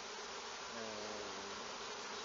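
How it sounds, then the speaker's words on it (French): Honeybees swarm and buzz loudly at an apiary, a dense steady drone close by with no talk. "Toutes les abeilles vont retourner là."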